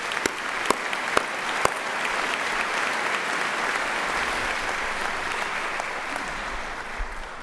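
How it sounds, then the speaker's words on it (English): Audience applause at a medical school diploma ceremony, a dense, steady wash of many hands clapping from a large crowd in a big hall, with a few sharper nearby claps at the start. "let me just give a round of applause"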